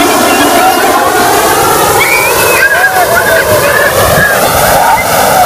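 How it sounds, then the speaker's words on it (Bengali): Surf washes around the feet at Blue Flag beach in Puri, a loud, close, continuous roar of churning waves, with faint voices woven into the din. "এটা ব্লু ফ্ল্যাগ বিচের সমুদ্রের ঢেউ।"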